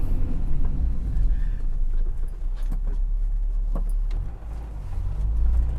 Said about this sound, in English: Slow the car. Rev match to second.